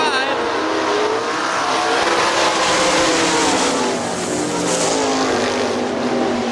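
Sprint cars from the AVSS 410 series race around the oval at Hartford Speedway Park in Michigan, a steady loud engine roar sustained throughout from several cars in a pack, with an announcer's voice over it.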